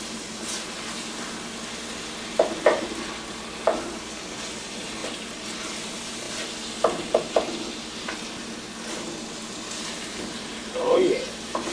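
Thick spaghetti meat sauce is stirred in a pan, a low simmering bubble broken by several sharp clinks and scrapes of the utensil against the pan, close by and irregular, with a short burst near the end.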